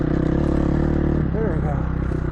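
Dirt bike engine in the Idaho desert idling loud and close with a rapid, steady thumping, then a brief clunk and rising whine as it drops into gear, with someone talking over it.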